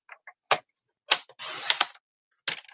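Card stock is cut on a paper trimmer with a few sharp clicks and a short sliding swish of the blade, close and dry with gaps of silence between.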